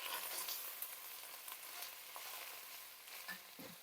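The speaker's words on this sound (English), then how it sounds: "now I'm going to add my pinto beans in" Pinto beans with their broth are poured into a hot Dutch oven of beef chili, setting off a soft, steady sizzle and faint stirring noises close by, with no voices.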